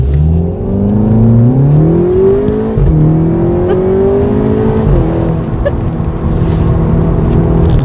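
Engine of a Seat Leon Cupra 300 Estate driving hard on a twisty road, revving loudly and steadily with pitch rising and dropping through gear changes, heard from inside the car with no talking.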